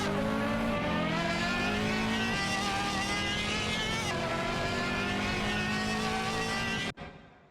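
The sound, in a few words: race cars racing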